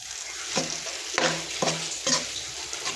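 Gram flour (besan) is stirred and roasted in oil in a pan for halwa, giving a soft steady sizzle broken by four distinct spoon scrapes at irregular intervals.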